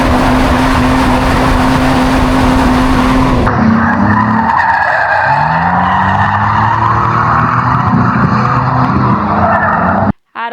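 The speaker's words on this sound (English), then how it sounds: "they were allowing tandems on the skid pad. So me and Josh got to get out for the first time" Two cars drifting in tandem on a track skid pad, loud engines revving and tires squealing continuously, with sustained screeching tire noise and shifting engine pitch throughout, close by.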